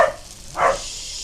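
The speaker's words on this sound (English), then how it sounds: "Sorry, the dogs are going nuts." Dogs bark indoors nearby, two short sharp barks separated by a brief pause, with a faint background hum between them.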